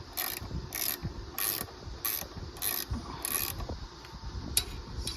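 Metallic ratcheting and clicking from wrenches working bolts loose on the turbo downpipe of a VW/Audi 2.0 TSI, coming in repeated short bursts of several clicks each, close and fairly quiet.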